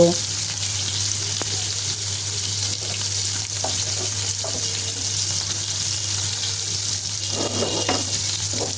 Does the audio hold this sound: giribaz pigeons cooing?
no